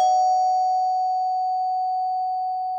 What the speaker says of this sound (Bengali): আকাশ কলিং বেল টিপে দেয়